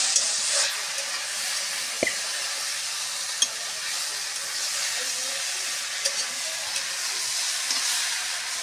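Food frying in a pan over a wood-fired stove: a steady, close, even sizzle with a few faint clicks and one brief knock, no voices.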